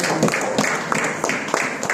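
A church congregation at a Sunday service claps together, a fairly steady patter of many hands with a few louder rhythmic beats standing out, heard at moderate loudness with a room feel.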